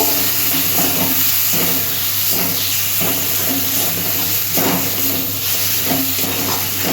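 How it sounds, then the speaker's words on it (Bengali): Kashmiri chili powder and meat masala sautéing in a pan, a steady close hiss of frying with faint scraping strokes at intervals, no talk. "এরপর দিচ্ছি মিট মশলা এটাও আমি কষিয়ে নেব"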